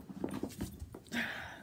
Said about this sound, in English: I have a dog that's trying to get at my food